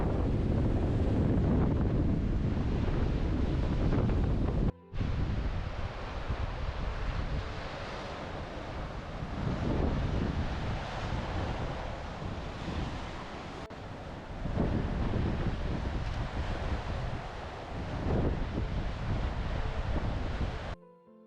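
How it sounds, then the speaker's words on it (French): Strong winter wind on the Var coast near Cabasson roars and buffets the microphone continuously, with a brief dropout, and waves wash in the background; no voices. "Il y a du vent"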